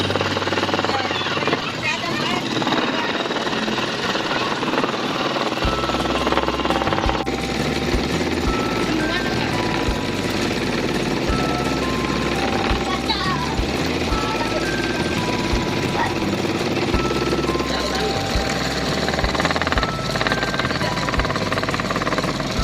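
A dangerous power machine cuts scrap wood for a chopping board in a school craft workshop, a loud continuous engine-like roar with rattling, hammering texture that holds for over twenty seconds while people talk beneath it.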